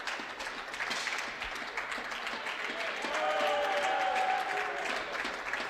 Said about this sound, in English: Crowd getting involved early, which is always nice.